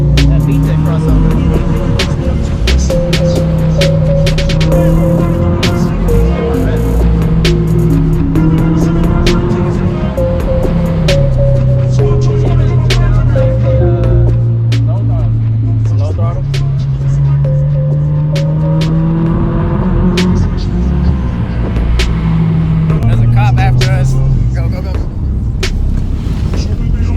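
A supercharged stroker Honda S2000 engine revs hard on a dyno, holding loud sustained tones whose pitch climbs, dips and climbs again over nearly half a minute, with voices mixed in.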